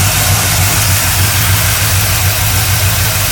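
A 1972 GMC Sierra Grande truck engine, left nine years without an intake manifold, idles under an open hood with a steady low rumble that holds loud and even throughout, with no voices.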